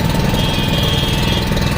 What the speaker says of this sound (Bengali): এই যে আমাদের স্টার্ট হয়ে গেছে ইঞ্জিন।